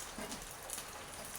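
Dry red chillies and curry leaves spluttering in hot oil as a tempering for a basale greens sambar: a dense, steady crackle that stays close and even throughout, with no voices.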